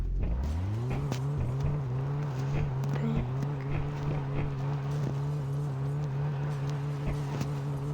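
Engine of a car driven in a video game, revving up and holding a steady drone throughout with small pitch shifts, under occasional game sounds.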